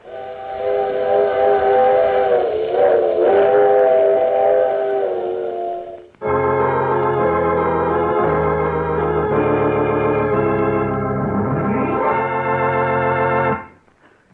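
Steam train whistle blasts in a radio drama setting, first a wavering chord-like whistle for about six seconds, then a louder, fuller multi-tone whistle with rumbling train noise beneath, sustained until fading near the end; no talking.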